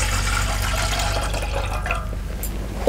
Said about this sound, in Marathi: मी एक तांब्याभर पाणी टाकते पातेल्यात.